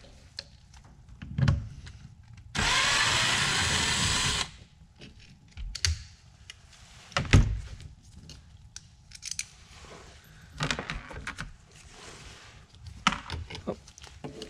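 Power driver spins out T25 Torx screws from a BMW seat motor on a bench, a loud steady whir running about two seconds, surrounded by scattered clicks and handling knocks of metal parts.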